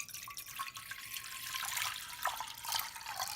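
Water pours steadily into a cooking pot while elderberry syrup is being made, a soft continuous splash and trickle close by with a few brighter spurts, and no voices.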